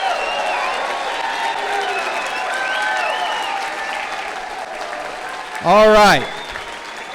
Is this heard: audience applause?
yes